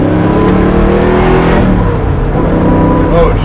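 A twin-turbo Chevrolet Camaro running with no muffler accelerates hard, a loud, continuous engine roar heard from inside the car, with the tone shifting as it climbs; voices speak over it.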